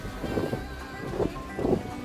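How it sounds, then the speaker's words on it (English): Strong gusting wind buffets the microphone on the exposed summit of Table Rock in the Linville Gorge on an October day, a steady low roar swelling into three louder gusts. "It is so windy out."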